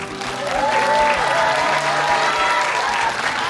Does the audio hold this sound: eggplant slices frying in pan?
no